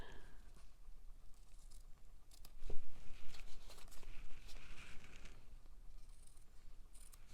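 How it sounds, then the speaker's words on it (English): Scissors trim card paper and thread for a handmade birthday card, making a few close, soft snips and papery rustles, with one sharper clack midway. "And then trim it."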